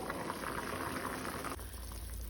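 Tender jackfruit pieces boil in water in a pot over a medium gas flame, giving a steady, dense bubbling hiss that runs close and even throughout, with no voices.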